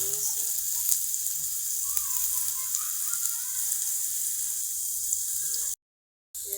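Onions sizzle in hot oil for a Bengali tilapia bhuna, a steady close hiss and crackle that holds evenly before a brief dropout near the end, with no voices over it.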